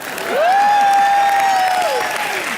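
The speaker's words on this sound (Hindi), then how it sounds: "जोरदार तालियां।" A comedy-show studio audience claps loudly and continuously, swelling early and then holding steady, while a sustained whistle-like tone sits on top for most of the burst.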